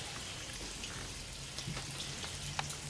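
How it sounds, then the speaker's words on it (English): Unsalted butter melting in a hot pan gives a soft, steady sizzle and crackle, faint and close, with a few small pops and no talking. "Watch the butter melt."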